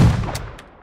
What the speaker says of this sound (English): the IZH-43 hunting shotgun